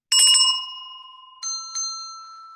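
Inexpensive handbells are struck one after another for comparison: a bright first ring with a quick shake, then two more clear strikes that ring on and decay, loud and close with no speech.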